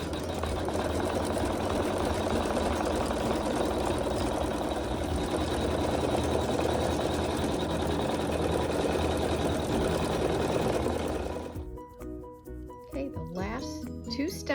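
A sewing machine stitches quilting in a fast, continuous mechanical whir that runs steadily for about eleven seconds, then stops and gives way to quieter handling sounds.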